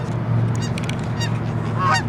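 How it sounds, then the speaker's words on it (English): Several geese honk in bursts over a steady low background hum, the calls fairly clear and moderately close. "And there's the geese."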